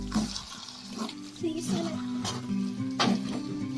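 Water is poured into a pan of gongura green chili pickle cooking village-style, giving a soft, steady splashing and trickling that runs nearly the whole time at low volume.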